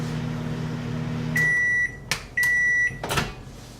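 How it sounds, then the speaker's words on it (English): A microwave oven hums, then stops and lets out a couple of steady beeps, followed by a door clunk; quiet and close. "I don't like to microwave as much as I have to"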